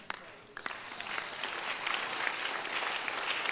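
An audience claps at a church service, a dense, steady patter of many hands that starts with a few sharp claps and settles into a continuous sound.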